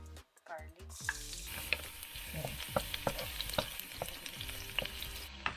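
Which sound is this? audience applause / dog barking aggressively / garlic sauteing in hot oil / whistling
garlic sauteing in hot oil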